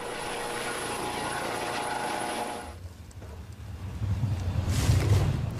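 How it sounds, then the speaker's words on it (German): An EC-155 police helicopter lifts off, its steady turbine whine and rotor roar loud and close before dropping away and giving way to a deeper, swelling rotor thump with wind noise. "sitzen in einem der modernsten Hubschrauber der Welt, einer EC-155."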